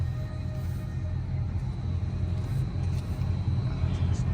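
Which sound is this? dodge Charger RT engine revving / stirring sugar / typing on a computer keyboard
dodge Charger RT engine revving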